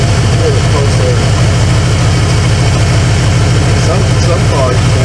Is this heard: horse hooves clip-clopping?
no